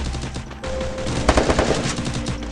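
Rapid automatic gunfire in a squad battle video game, loud close bursts of shots followed by a dense volley of cracks, with no speech.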